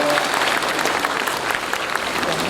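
Dense, steady applause from a seated audience at a Forever Living India success day event in Patna, loud and continuous throughout with no pauses.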